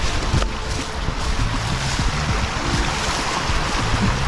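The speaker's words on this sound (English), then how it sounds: "there's water flowing this way over there" Water flows over the ground outdoors as a steady, loud rushing wash, mixed with gusty wind buffeting against the microphone and a few faint knocks underneath.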